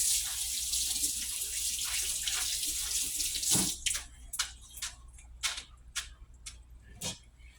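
Hands washed under a running kitchen tap, a steady rushing stream that breaks into a series of splashy bursts and drips in the second half, close and alone.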